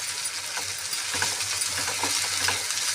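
Ginger garlic paste frying with onions in a pan for an eggplant curry, a continuous close sizzle broken by scraping stirs of a spoon against the pan, with no voices.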